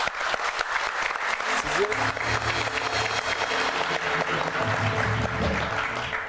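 Applause from a studio audience at a live political television broadcast, dense continuous clapping that fills the room while a speaker talks faintly over it.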